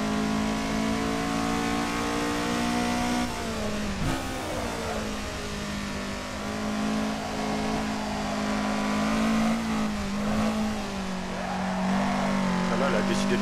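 Toyota Supra engine droning steadily at sustained revs in the Assetto Corsa racing game, a constant mid-pitched hum with a brief dip around four seconds, under continuous talk.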